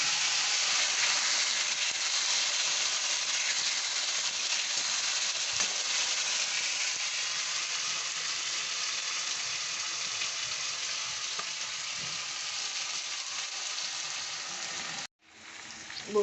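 A darkened paste of tomato, coriander and onion fries in a pan for a fish roe kofta curry, giving a loud, steady, close sizzle that runs unbroken and then cuts off abruptly near the end.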